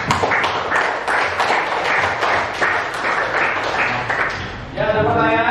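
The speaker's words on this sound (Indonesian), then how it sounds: "Tepuk tangan untuk" Students in a classroom applaud a lesson with steady, close clapping that stops abruptly near the end, after which a voice starts speaking.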